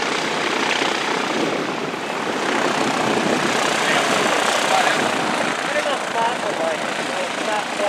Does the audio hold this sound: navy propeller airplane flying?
yes